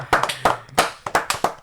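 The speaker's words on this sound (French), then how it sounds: "Et on t'applaudit" A few people clap their hands in a small group during a political talk show, a short burst of sharp, close, uneven claps with no talk over them.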